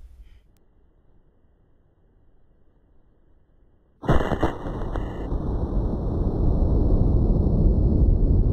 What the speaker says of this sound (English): that's the remnants of the lock after the Mosin hit it. So, blew that apart pretty well